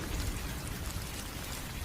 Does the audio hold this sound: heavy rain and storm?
yes